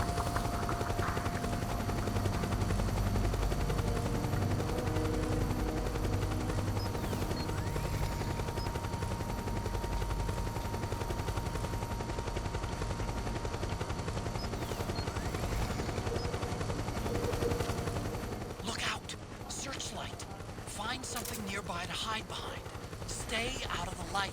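Continuous rumbling helicopter rotor noise mixed with dense gunfire bursts in the video game Metal Gear Solid 4: Guns of the Patriots, loud and unbroken throughout, turning more scattered and crackly near the end.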